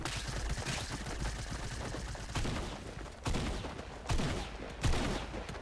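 Gunfire in the video game Fortnite rattles in dense, rapid bursts, with several sharper reports toward the end, all at a fairly low level.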